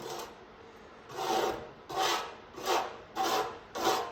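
A scraper pulls softened paint, with some rust beneath, off a surface treated with D Super Remover chemical paint stripper. About six quiet, rhythmic rasping strokes sound at close range.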